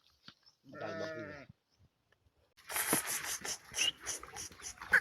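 Goats on a farm: one clear, close bleat rings out, then after a pause, livestock shuffling and scattered voices and animal noises fill the rest.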